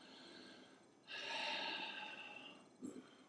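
A person exhales audibly and forcefully through the nose during a seated neck stretch in a workplace yoga flow, one long breath out followed by a short snort-like puff, close and alone.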